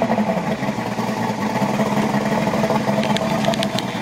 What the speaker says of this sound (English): these two strokes, when you start them. So we'll put it in neutral, give it a little.